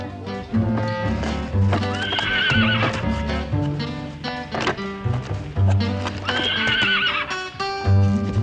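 Wild horses at a rodeo whinny loudly in two long neighs, with hooves clopping and thumping throughout and faint voices in the background.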